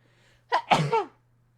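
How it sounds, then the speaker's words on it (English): One sneeze is heard close up indoors: a quick sharp intake of breath, then a loud burst that fades away, over a faint steady electrical hum. "So I have to sneeze, hold on."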